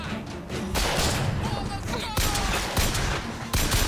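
Sustained gunfire in the shooter BioShock Infinite, dense overlapping shots and impacts filling the whole stretch, loud and close, with a couple of sharper bursts near the end.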